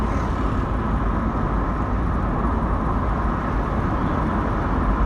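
A 1986 Nissan Silvia retro classic car on the move, heard from inside as a steady, continuous low engine and road rumble with no breaks or changes for several seconds.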